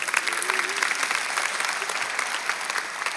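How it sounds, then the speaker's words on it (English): Audience applause breaking out in a church during a pastor's sermon, a steady wash of many hands clapping across the room, loud and continuous throughout. "Somebody clap their hands for the combs."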